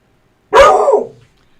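A dog lets out a single loud, close bark that trails off into a brief whine-like tail.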